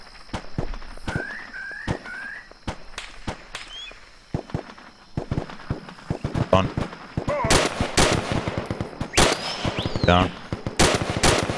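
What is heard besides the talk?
gunfire in a video game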